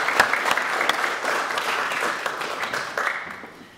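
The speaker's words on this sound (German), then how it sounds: "Einen Applaus für Sie." Audience applause at the opening of a special exhibition marking 175 years of Hapag-Lloyd, welcoming the shipping company's first female board member; steady dense clapping from a crowd, fairly close, tapering off toward the end.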